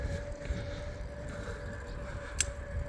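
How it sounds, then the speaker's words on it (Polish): Strong wind buffets the microphone outdoors in open countryside, making a continuous low rumble with uneven gusts and a faint tonal hum. "Wieje strasznie."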